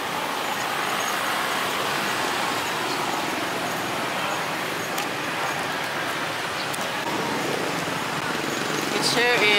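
Night street traffic in Betong, Thailand, a dense continuous roar of motorbikes and vehicles close by, with people talking in the clip.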